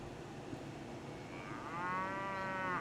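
A cow lets out a single drawn-out moo in the second half, rising in tone and heard clearly though not loud, over a faint background.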